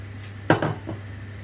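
Spinach being stirred into a pan of fish, spring onions and feta for a fish pie, heard as a brief clatter of a utensil against the pan with a few softer scrapes and a low steady hum underneath.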